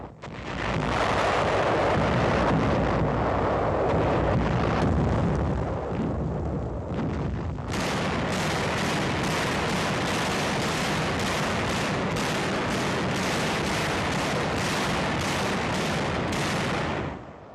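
Naval bombardment ahead of a beach landing in archival wartime film, a dense, continuous roar of explosions and gunfire that later turns into a rapid run of sharp, evenly spaced blasts, loud and unbroken throughout.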